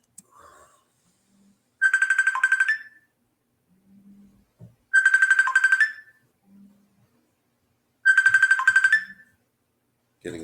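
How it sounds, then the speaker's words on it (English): A mobile phone rings with an incoming call from an unknown caller. Three clear, loud bursts of an electronic ringtone come at even intervals with silence between them. Faint low sounds fill the gaps. "Getting attacked by my phone by some random caller."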